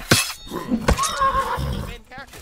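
A horse in the online combat game Mortal Online 2 neighs loudly during a group PvP tournament fight, a short whinny with nearby hoof sounds, mixed in with players talking excitedly.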